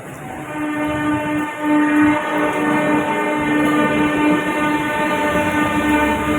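A Kolkata metro train rumbling steadily close by, with a sustained tonal whine over heavy rolling noise and no one talking.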